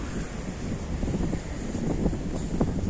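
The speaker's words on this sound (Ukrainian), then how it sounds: "Ох, і вітер піднявся." Gusty autumn wind in the city of Cherkasy, Ukraine, buffets the microphone in uneven rumbling bursts, with a broad rushing noise underneath that rises and falls.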